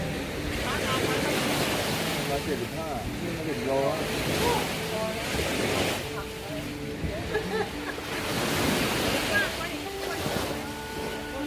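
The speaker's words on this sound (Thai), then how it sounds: "มาฟังเสียงคลื่นกระทบฟ" Surf rolls and washes in repeated surges, with wind rumble on the microphone and voices talking over the waves.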